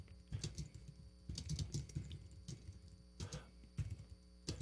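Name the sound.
typing on a computer keyboard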